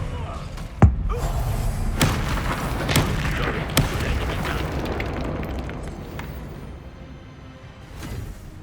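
A Confringo blasting spell cast in the video game Hogwarts Legacy: one sharp, loud booming impact early on, then a few lighter thuds and whooshes over a rumbling battle din.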